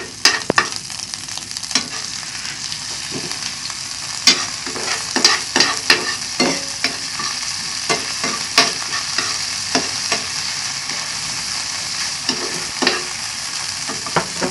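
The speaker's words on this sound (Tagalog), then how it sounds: "Igisa lang natin siya." Garlic, onion and shrimp paste sautéing in a hot pan, a continuous close sizzle punctuated by sharp irregular clacks and scrapes of a spatula stirring, with no voices.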